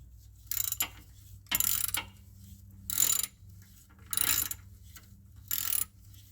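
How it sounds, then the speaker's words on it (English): Bolts are tightened on the CVT pan of a 2021 third-generation Nissan Murano, five short ratcheting bursts spaced about a second apart, quiet and close with faint background hum between. "I'm bringing the bolts until I feel resistance on the mating surfaces to the gasket."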